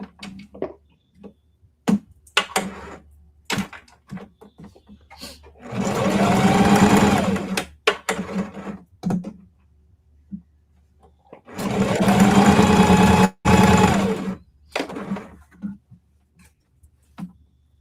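A sewing machine stitches jelly roll fabric strips in two sustained runs of several seconds each, with a person talking in the pauses before, between and after the runs.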